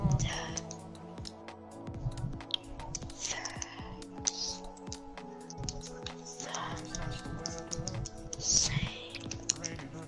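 Typing on a computer keyboard gives rapid, irregular key clicks running under a man's speech and background music.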